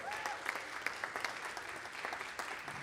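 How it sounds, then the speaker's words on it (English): An audience at a brass ensemble concert claps steadily, a dense, even patter of many hands close by with no talking. "Let's give her a hand."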